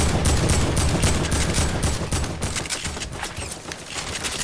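AK rifle fire in a multiplayer video game, rapid overlapping bursts of automatic gunshots, loud and close, crackling continuously with several weapons firing at once.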